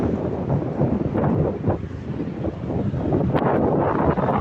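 Strong wind roars steadily against the microphone, a dense low rumble with gusts that swell and fade throughout.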